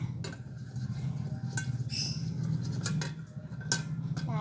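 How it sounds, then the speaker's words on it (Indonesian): Spoons clinking and scraping in a pot while stirring a pretend noodle dish, with irregular metallic taps and rattles over a steady low background hum. "udah tuh kita aduk-aduk ini ya teman-teman"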